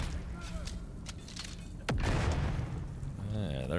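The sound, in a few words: grenade explosion in video game Dune: Awakening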